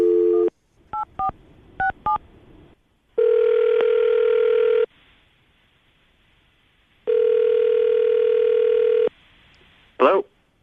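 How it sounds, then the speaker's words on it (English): A telephone keypad dialing a number in quick DTMF beeps, followed by two long steady ringback tones separated by a pause, then a short burst of a voice answering. "I'm about to dial the phone number you gave us"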